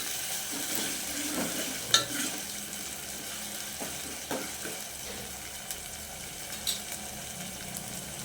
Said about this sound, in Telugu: అల్లం పేస్ట్ వేసుకుంటున్నానండి. పచ్చి వాసన పోయే వరకు కలుపుకోవాలి జర